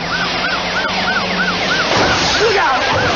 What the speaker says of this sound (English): I heard a siren on St. Joe Street approaching the intersection